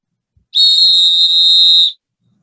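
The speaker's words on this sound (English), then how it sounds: "That ain't a police whistle. That's a sporting whistle." A sporting whistle blown on a street to hail a cab, one loud, shrill, steady blast lasting about a second and a half, alone and close.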